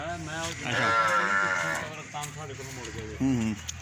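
A loud, drawn-out low from a buffalo calf with a rising, strained tone, followed by a shorter call, while people talk in the background.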